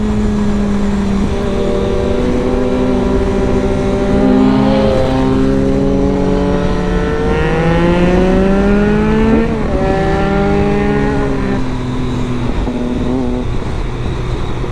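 A Triumph Daytona 675 motorcycle engine revving and shifting through gears, with rising and falling whine, loud and close, ending with brief exhaust pops on downshifts.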